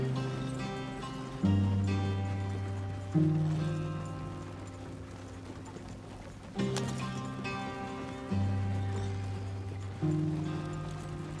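Wild horse hooves in Red Dead Redemption 2 clop in a few separate bursts, moderately loud over a sustained musical drone, with no talk.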